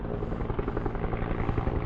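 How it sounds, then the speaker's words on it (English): Helicopter rotor noise from one of several choppers on a morning search-and-rescue in thick hillside brush, a steady loud thudding drone that holds through the whole short stretch with no talk. "there have been, I think, 2 or 3 choppers here this morning"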